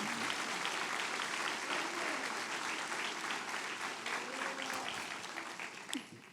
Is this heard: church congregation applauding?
yes